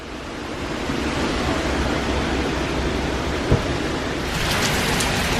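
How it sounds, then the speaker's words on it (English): Heavy rain pours steadily with gusting wind at Epcot in Florida near the UK pavilion, a dense, loud, unbroken wash of noise with a single brief knock partway through. "Okay, it's chucking it down,"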